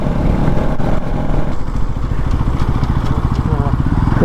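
A motorcycle engine drones loud and close while riding on a hill road near Chikkamagaluru, a steady throbbing rumble with wind noise, and people can be heard talking over it.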